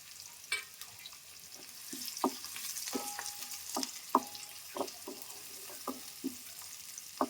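Finely chopped garlic fries in a pan for a leafy greens curry, giving a soft sizzle broken by sharp, spaced clicks of a utensil scraping and tapping the pan.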